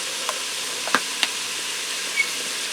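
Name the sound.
ground beef browning in the Ninja Speedi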